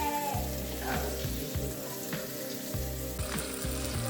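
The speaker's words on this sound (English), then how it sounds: "Okay, so I floured and I'm browning the short ribs." Floured short ribs browning in a hot pan give a close, dense sizzle and crackle throughout, with a low rhythmic hum beneath and no speech.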